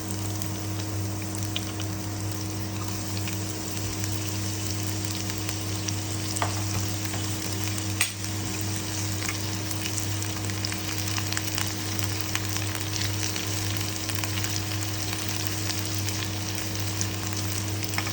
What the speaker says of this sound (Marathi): फ्राय करून